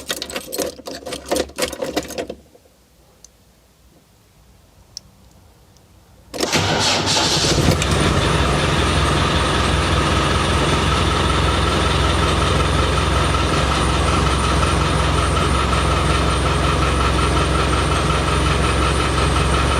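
A Land Rover Defender 110 diesel engine cranks briefly, falls quiet, then catches after glow plugs are used and settles into a loud, steady, clattering idle.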